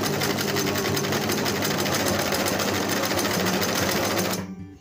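A sewing machine running flat out on fabric, sewing long straight stitches with a steady, loud, continuous mechanical whir that stops abruptly near the end.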